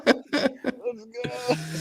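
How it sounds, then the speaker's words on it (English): People coughing during a wrestling talk show, several quick harsh coughs and a throat clearing up close, followed by brief voiced sounds like chuckling. "People are coughing."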